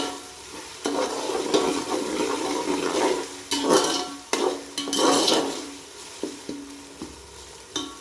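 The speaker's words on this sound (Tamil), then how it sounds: "தக்காளி கொஞ்சம் வதங்கட்டும் ஃப்ரெண்ட்ஸ்." Chopped tomatoes sauté in a hot pan with a continuous close sizzle, broken by louder bursts of stirring and scraping and a few sharp utensil knocks against the pan.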